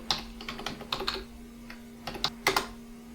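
Keys on a computer keyboard are tapped while text is entered in Premiere Pro, giving irregular clusters of crisp clicks over a steady low electrical hum, close and moderately loud.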